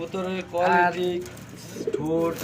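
Pigeons coo close by in a pigeon farm, two throaty rolling calls separated by a brief pause, clear and fairly loud against quiet background noise.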